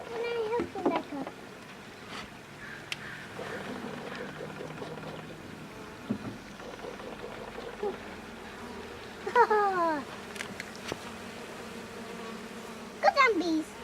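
Honeybees from a package being installed into a hive drone and buzz steadily at close range, with a few louder buzzing passes by individual bees, while a person speaks intermittently over them.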